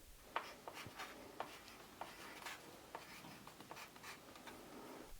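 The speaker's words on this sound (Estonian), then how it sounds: "Pilli sisse kirjutan meistri nime ja pilli valmistamise aasta." A maker's name and the year being written by hand inside a small Estonian kannel, a string instrument under construction: soft, faint scratchy pen or pencil strokes in short repeated bursts, close and quiet, with no talk.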